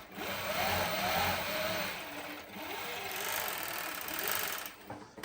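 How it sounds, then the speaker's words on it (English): A Juki MO-6804S 3-thread industrial overlock machine with a silent servo motor sews in a steady, fast hum, faint and continuous with slight speed changes and no talk. "you get excellent stitch speed control with the silent servo motor"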